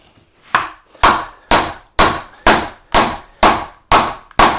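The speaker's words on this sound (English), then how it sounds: "Now this axe, it's more of a splitting axe, you know, for your firewood." A splitting axe repeatedly strikes willow firewood, eight sharp loud woody thwacks at a steady rhythm about half a second apart, each decaying quickly, close by with no talk.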